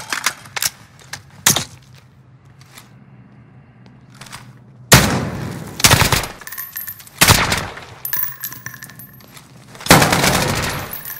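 Incoming gunfire during a Modern Warfare special-ops mission, with scattered sharp shots early on, then heavy, loud bursts of fire and impacts cracking close by in repeated volleys.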